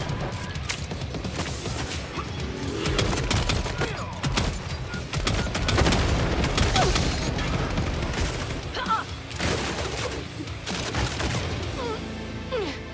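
Rapid bursts of dual pistol fire from a video game, crackling shots layered over explosions and clanking mechanisms in a busy, loud battle mix, with faint speech now and then.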